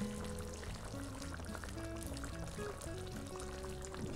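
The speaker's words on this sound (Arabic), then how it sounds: "رح ناخد مصفاية نبلش نطول من الرز ونصفيه مزبوط من المي" Boiled rice water drains through a strainer in a steady rushing pour, with music playing over it throughout.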